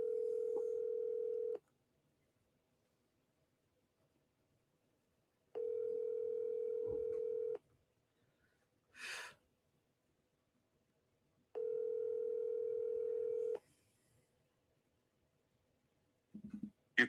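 Ringback tone of an unanswered telephone call, three evenly spaced two-second tone bursts separated by silence, with a brief faint noise between rings and a short voice fragment at the very end.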